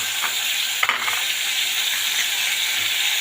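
Tomatoes hitting a hot pan during sautéing for a spiced ginger (adrak) vegetable dish, giving a steady, loud sizzle and hiss throughout with one brief clatter of stirring near the start.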